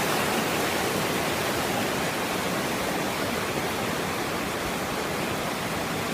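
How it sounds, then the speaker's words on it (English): Rushing water of a waterfall along the Basin trail in Franconia Notch, White Mountains: a steady, dense broadband roar that holds even and unbroken throughout, close and loud, with no voices. "got some real nice waterfall type action"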